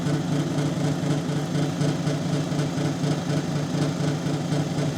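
Lapidary grinding wheel running with wet felt pads while an agate cabochon is worked, giving a steady, loud, motor-like hum with a constant grinding drone and no break.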